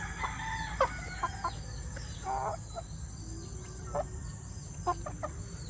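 Chickens in a chicken house in the Philippines cluck and call in short, scattered bursts, with a rooster crowing among them, set against steady background noise and no talking.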